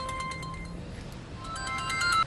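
A mobile phone ringtone plays a repeating electronic melody, fairly loud and close. It rings steadily for a couple of seconds with no talking over it.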